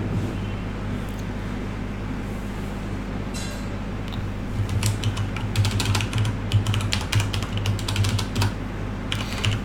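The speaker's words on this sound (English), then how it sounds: "And I'm making a meal of typing as well." Rapid typing on a computer keyboard during a live gaming finals stream, steady clicking that grows denser and louder in the second half over a constant low hum.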